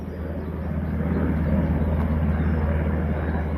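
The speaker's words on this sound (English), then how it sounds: "this is just one helicopter flying over that I can hear coming from a long ways away." A U.S. Army helicopter passes overhead, a steady low rumbling drone that swells slightly as it nears, heard continuously without speech.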